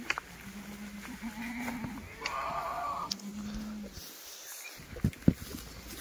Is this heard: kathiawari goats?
yes